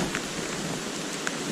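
Steady rain falls beside the McKenzie River on a trout fishing outing, a dense even hiss of drops on surfaces with a few sharper individual splashes, no talk.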